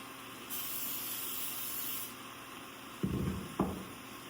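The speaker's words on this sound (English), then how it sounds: "I'm just going to spray my casserole dish and get it ready." A steady hiss of cooking spray into a casserole dish lasts about a second and a half, followed by two soft thuds, like a can being set down in a quiet kitchen.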